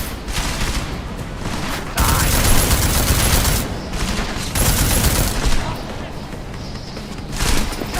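Heavy sustained video game gunfire, dense bursts of automatic shots and booming blasts that swell and fade in waves across the whole stretch, loud and close, with a player talking over the action.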